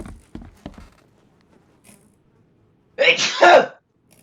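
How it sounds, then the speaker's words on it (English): A single loud, breathy sneeze bursts out near the end, preceded by a few soft clicks and near silence. "And I am about to sneeze."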